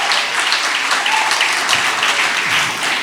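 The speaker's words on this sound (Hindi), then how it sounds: "जोरदार तालियों से इस्तकबाल कीजिए साहब।" Loud, dense clapping from the audience at a poetry mushaira in Jeddah, continuous and even for a few seconds, with no talking over it.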